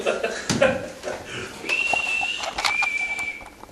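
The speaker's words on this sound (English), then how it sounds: "Somebody's whistling." Someone whistles two sustained high notes, steady and fairly clear, among scattered knocks and background noise.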